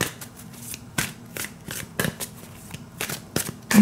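Tarot cards being shuffled by hand, a series of quick riffling bursts and soft slaps at an irregular pace, close and crisp.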